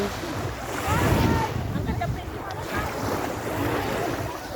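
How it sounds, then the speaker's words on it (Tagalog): Sea waves at a marina wash and splash close by in continuous surges, with gusts of wind buffeting the microphone. "hampas ng tubig oh guys dito kami sa dagat"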